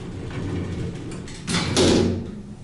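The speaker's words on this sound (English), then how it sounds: "There goes the doors." The doors of an International hydraulic elevator at Dillard's in MacArthur Center, Norfolk, Virginia, slide open with a soft mechanical rumble, then a rising whoosh and thud. The sound is close, over steady store ambience.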